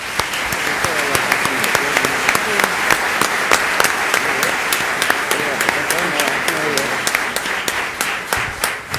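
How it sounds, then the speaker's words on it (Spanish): Loud, sustained applause from an audience at a Partido Patriota candidates' forum in Guatemala, dense steady clapping filling the room for the full stretch without letup. "para quienes pido un fuerte aplauso"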